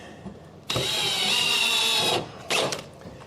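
A power drill drives a screw into a shelf upright: a loud whirring burst of about a second and a half, a pause, then a short second burst, close by with no talking.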